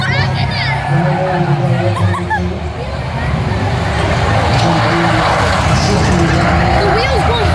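Stock car racing at Lochgelly, with engines roaring and a wheel spinning and skidding amid loud continuous track noise and crowd babble, a few squeal-like tones rising briefly over the din.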